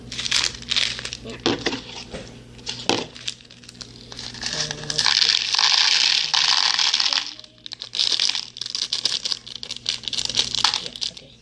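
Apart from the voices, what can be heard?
plastic wrapper crinkling being opened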